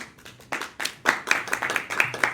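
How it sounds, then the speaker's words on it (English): Brief, scattered clapping from a small audience at a round table panel during an entrepreneurship and innovation forum, close and uneven, lasting just a couple of seconds. "A big applause for you as well."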